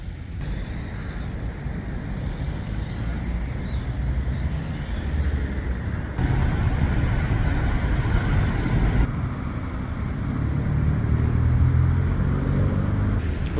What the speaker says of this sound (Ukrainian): Утворився, звичайно, певний затор.